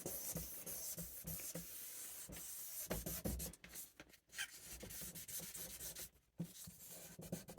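Sanding a plastic car headlight lens by hand to key it before lacquer, a steady scratchy rubbing that runs for several seconds with brief pauses, close and moderately loud.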